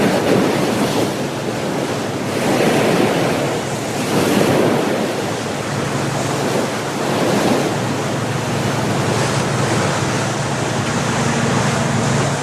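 Ocean surf of the Tasman Sea where Doubtful Sound opens out in New Zealand, breaking against wave-beaten rocks: a continuous broadband wash with slow swelling surges and a steady wind-like rush, close and fairly loud, no voices.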